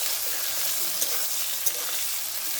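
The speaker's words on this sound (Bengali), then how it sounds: "এবারে দিয়ে দেবো পেঁয়াজ কুচি পেঁয়াজটাকে আমরা লাল লাল করে ভেজে নেব" Chopped onion fries in a pan over a wood fire after a bay leaf is added, making a soft, even sizzle with a couple of small stirring ticks, fairly quiet and without talk.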